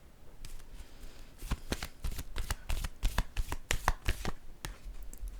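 A tarot deck is shuffled and cards drawn, starting with soft handling and building into a dense, rapid string of close, crisp card riffles and snaps, without speech.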